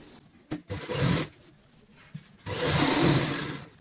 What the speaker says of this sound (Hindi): ऊपर से सिलाई लगाएंगे